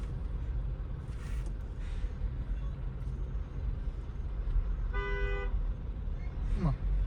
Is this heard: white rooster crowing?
no